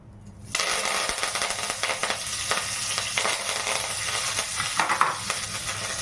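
Curry leaves hit hot oil in a pan for dosa cooking, setting off a sudden loud sizzle that keeps crackling and popping steadily as they fry, with stirring clatter through it.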